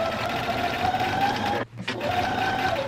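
A sewing machine runs steadily, stitching forward and back along a bag seam, a continuous close whir with one brief pause before it resumes.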